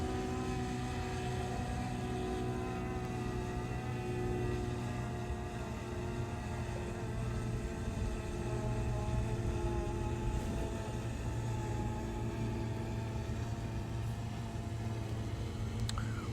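A steady engine drone with a humming tone holds throughout at moderate distance, an aircraft slowly drawing nearer.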